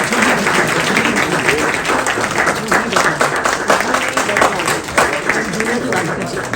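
Audience clapping fills an indoor event celebrating traditional Indian jewellery, a steady dense patter of many hands with some voices mixed in underneath.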